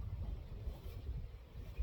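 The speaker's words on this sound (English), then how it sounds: "It is a little windy here in southeast Tennessee today." Gusty wind buffets a microphone outdoors in southeast Tennessee, a steady low rumble with soft swelling gusts that stays constant throughout, with no voices.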